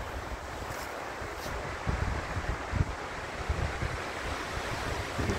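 Wind roars steadily against the microphone, with rougher buffeting gusts surging in the second half.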